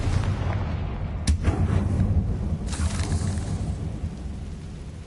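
A blasting spell from the video game Hogwarts Legacy sets off a loud, sharp explosive crack that rolls into a dense, rumbling burst and then a lingering crackling wash, with no talk.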